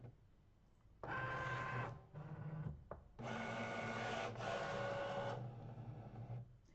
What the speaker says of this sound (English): I'm putting it into the machine